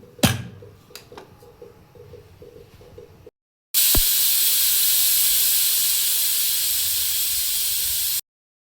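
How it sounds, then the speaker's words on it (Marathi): A pressure cooker of rice on a gas stove at medium flame releases steam in a loud, steady, close hiss lasting over four seconds, following a quieter stretch with a few sharp clicks. "मीडियम गॅसवर 3 शिट्ट्या करून घेऊ."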